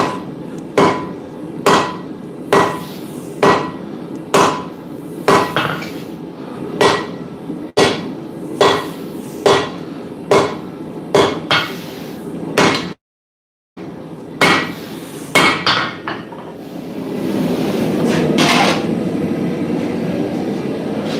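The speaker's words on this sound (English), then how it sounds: "I am going to use a smaller hammer for this." A smaller hammer strikes steel at a blacksmith's forge in a steady rhythm, sharp metallic blows about once a second, loud and close, with a brief pause and then a rushing hiss near the end.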